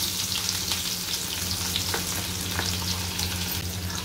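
Onions fry in hot oil in a kadhai with cumin and asafoetida, giving a dense, continuous close sizzle with a low steady hum underneath and faint stirring scrapes.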